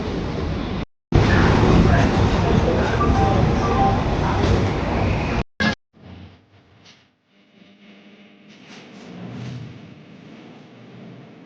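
Interior of an empty AC train in motion, a steady broad rumble and rush of the carriage with brief dropouts, later giving way to quieter rolling noise with faint talk.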